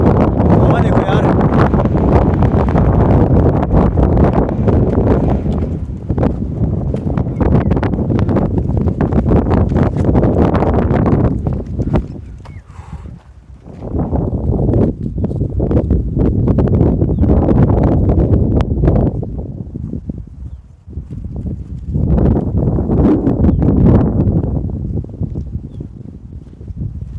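Strong wind roars across a hilltop at a rainy campsite, buffeting the microphone in loud, sustained gusts that ease briefly and then surge again throughout.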